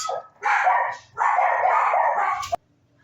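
Two bursts of barking from more than one dog indoors, loud and close, each lasting under a second with a brief pause between, ending in a sharp thump.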